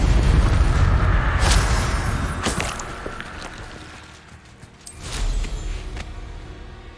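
Bombarda spell explosions in Hogwarts Legacy, several loud booming blasts with sharp cracks, rumbling tails and a quieter gap between hits, no talk.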